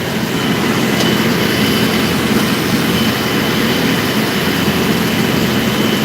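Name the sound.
tractor engine running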